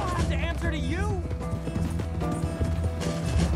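Horse hooves from Red Dead Redemption 2 clatter beneath steady talking and game music, the hoofbeats partly buried in the mix.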